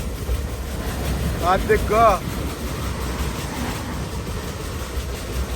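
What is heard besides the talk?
MEMU train passing by a moving train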